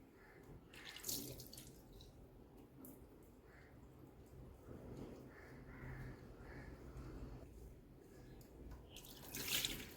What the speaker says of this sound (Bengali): মুখটা আগে ভালো করে ফেস ওয়াশ দিয়ে ধুয়ে নেব